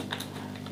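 A brief burst of a few soft, quick keystrokes on a computer keyboard, close and quiet, with no speech.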